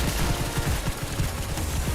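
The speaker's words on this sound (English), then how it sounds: "Best synergy in the game, infinite range, infinite fireworks." Rapid bursts of fireworks from the Firework Technician tower in Tower Defense Simulator crackle and pop in a dense, continuous barrage, loud and close, with no voices over them.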